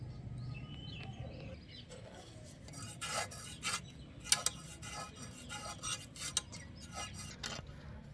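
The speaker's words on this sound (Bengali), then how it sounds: "এর পিঠের কাঁটাগুলো এরকমভাবে পরিষ্কার করে নিতে হবে।" Fresh bam eel being scraped along its back spines with a knife, producing repeated short raspy strokes over a steady low background, close and fairly loud in bursts.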